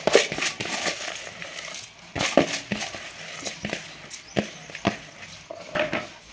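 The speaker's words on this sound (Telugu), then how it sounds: "ఈ మిగిలిన మొలకెత్తిన విత్తనాలు మొత్తం మిక్సీ జార్లో వేసుకుంటున్నా" Sprouted seeds poured into a mixer jar for crispy dosa batter, heard as scattered rattling ticks and small clatters of hard grains striking the jar in uneven bursts, with no talking.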